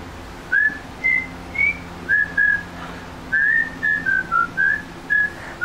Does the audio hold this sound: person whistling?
yes